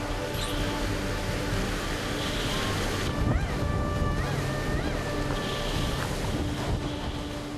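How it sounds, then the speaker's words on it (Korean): Heavy sea surges and wind roar continuously around a 29-ton pufferfish fishing boat pushing through large storm waves, a loud, dense wash of water and wind noise with faint engine and whistling tones underneath. "파도를 넘으며 전진하는 29톤 어선"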